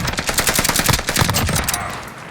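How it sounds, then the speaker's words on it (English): Sustained automatic fire in the Warzone video game, a long rattling burst of many rapid shots from overlapping weapons, loud and close, thinning out near the end into a quieter tail. "No, shoot the other person."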